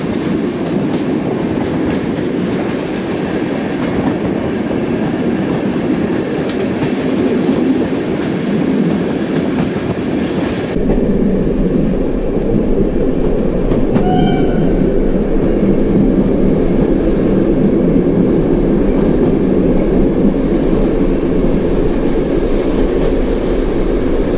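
A TLK Biebrza passenger train runs steadily on the rails in Poland, a continuous loud rumble with faint clicking, heard from inside, and a brief squeal near the middle.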